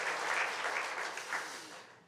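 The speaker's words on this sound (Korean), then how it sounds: "우리 하나님께 영광의 박수 다시 한번 올리도록 하겠습니다" A church congregation claps together to give glory to God, a steady wash of applause that fades toward the end, with no talk over it.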